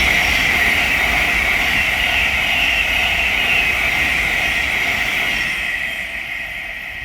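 A Thameslink Class 700 electric train passes at Welwyn Garden City on the East Coast Main Line, a loud close rushing roar with a bright high whine that holds steady, then fades over the last couple of seconds.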